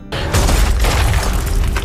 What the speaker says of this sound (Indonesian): dindingnya meledak